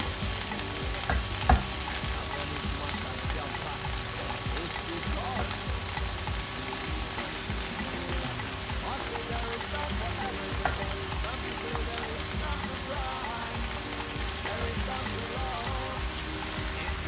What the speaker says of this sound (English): we stir everything together and it's smelling aromatic